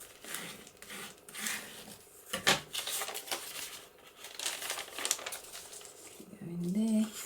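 Paper pages being folded in half for a steampunk-style journal, with soft crinkling, creasing and rustling handled close by in short bursts.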